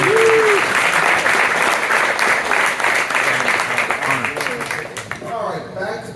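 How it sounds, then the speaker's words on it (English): A studio audience at a motorsports engine teardown event gives loud, sustained applause that fades slightly toward the end, where a voice starts to come through. "Let's give them a big round of applause for these viewers."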